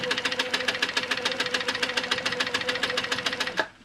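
A sewing machine stitches in the ditch on a quilt block, running in a fast, steady rhythmic chatter of needle strokes for about three and a half seconds before stopping abruptly.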